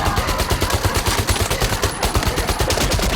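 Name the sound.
machine gun fire in a WWII movie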